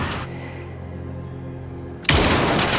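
Gunfire during a terrorist attack in a dubbed action film: a loud, dense burst at the start, then a low, humming lull, and another sustained, harsh volley after two seconds.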